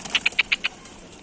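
Five quick, soft wingbeats flutter in a short burst as a pigeon takes off nearby, then quiet outdoor background remains.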